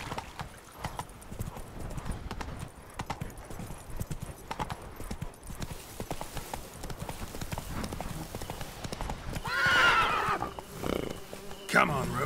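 Roach the horse in The Witcher 3 clip-clops at a gallop, with rapid steady hoofbeats and then a couple of neighs near the end, plus faint insect buzz.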